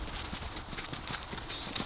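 Horses running loose in an exercise pen, their hooves clip-clopping in an uneven, rapid rhythm at moderate distance, with no voices over it.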